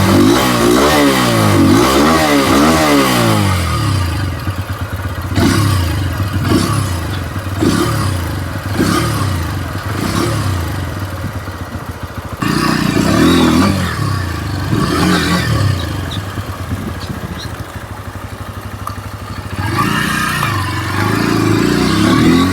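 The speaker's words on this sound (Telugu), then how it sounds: "ఒకసారి ఎగ్జాస్ట్ నోట్ వినండి." A 2025 Bajaj Pulsar N125 motorcycle runs close by, its exhaust rising through repeated revs early on, then settling into a steady idle broken by several sharp throttle blips and a final loud rev.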